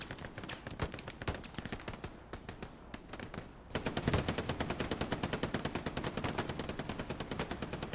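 Machine gun fire in the World War II shooter Hell Let Loose: rapid, continuous bursts of shots, one burst and then a louder, denser, steady rattle with a fast even rhythm and no voices.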